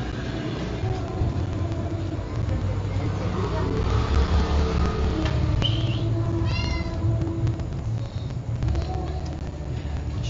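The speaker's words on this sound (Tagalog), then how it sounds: "Ingay yung pusa ko." A house cat meows close by, a few short cries rising over a busy background of voices and room noise.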